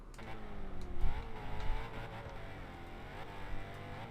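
In the CarX drifting game, an all-wheel-drive Audi RS7 build tuned to about 1000 hp revs and drones, its engine note rising and falling across a few seconds with no voices.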